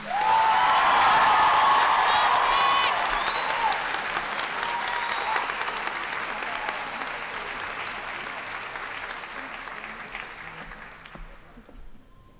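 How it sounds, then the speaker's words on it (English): Audience applause at a 2019 high school graduation ceremony in an indoor hall, loud sustained clapping with some cheering that gradually fades over about twelve seconds. "Let's have a round of applause for the class of 2019."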